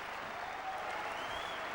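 Audience applause at a squash match during a 2001 British Open semifinal or final, a steady dense clapping wash held at an even level for under two seconds, with no talk over it.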